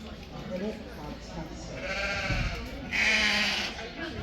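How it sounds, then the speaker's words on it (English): Valais Blacknose sheep bleat at a sheep show, a few drawn-out wavering calls that rise over steady crowd chatter and nearby talking. "So this sheep here, Kyra's ewe, is very similar to my champion ewe last year"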